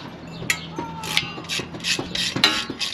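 A ratchet removing the 8 mm skid plate bolts on a Kawasaki KLX110 dirt bike, giving a series of close, quick clicking ratchet strokes with metallic taps.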